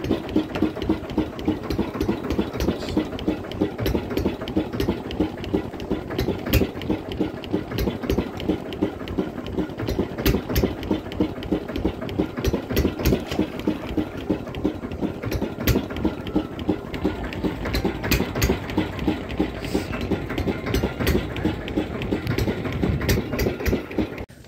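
A fishing boat's engine running on the Matla river in the Sundarbans, with a steady, close mechanical chugging that continues without a break throughout.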